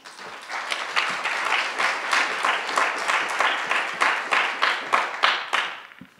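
Audience applause welcoming a lecturer to the stage, a steady dense wash of clapping from a room full of people that holds for several seconds before tapering off.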